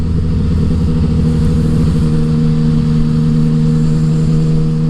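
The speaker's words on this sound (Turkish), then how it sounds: "Çok gaz açmadan böyle çat çat çat geçiyoruz." A Tracer 900 motorcycle fitted with a Healtech quick shifter pulls hard in traffic, its engine a loud, steady drone with a rough pulsing texture and brief clipped breaks at the gear changes, heard close with no talking.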